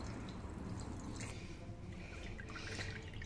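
Water drips and trickles from grated cassava being squeezed and twisted by hand in a small cloth, a close, steady wet dribbling with soft squishing, no talking.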